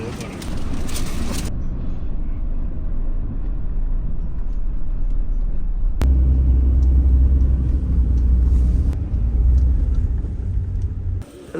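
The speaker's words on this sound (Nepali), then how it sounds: "हामी चाहिँ अहिले यहाँ ट्याक्सीबाट जाँदैछौँ" A taxi driving along a road in Nepal on the way to a hilltop, heard from inside as a steady low engine and road rumble with a couple of brief knocks, and people talking over it.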